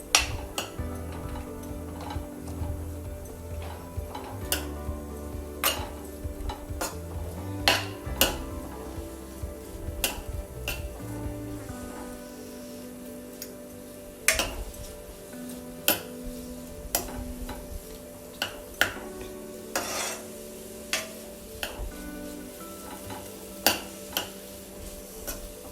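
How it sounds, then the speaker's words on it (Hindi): Vegetables sauté on high heat for spring rolls, a soft continuous sizzle broken by frequent sharp clinks and scrapes of a utensil against the pan, fairly quiet and without talk. "ये हमें हाई हीट पर ही सॉटे करना है।"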